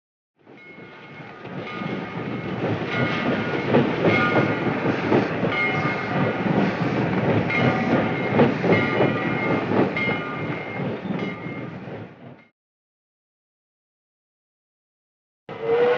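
A train runs steadily on its rails for about twelve seconds, a loud continuous rumble with rhythmic clatter, then stops abruptly into silence before resuming briefly at the end.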